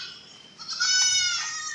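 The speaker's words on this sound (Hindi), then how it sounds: "हाइट वाली बहुत अच्छी हाइट में बकरी है ये, जंबो साइज़ माशाल्लाह।" A large, tall jumbo-size goat bleats at a livestock market, a loud, close, sustained nasal cry that swells and wavers for over a second, with no talk over it.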